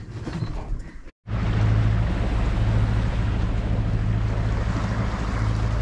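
A sailboat motoring at dawn through rolling ocean swell toward an atoll in the Mozambique Channel, with a steady loud engine drone, heavy wind rush and wave wash, broken by a brief dropout near the start.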